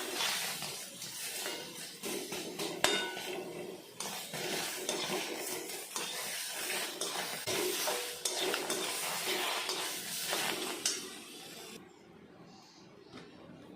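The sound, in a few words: dry roasting ingredients in a pan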